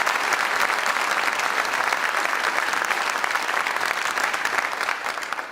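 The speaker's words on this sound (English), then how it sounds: "Let's give him a round of applause for that" Warm applause for Assemblyman Mark Schroeder at a gubernatorial event, a full, steady roar of many hands clapping that continues without break for over five seconds.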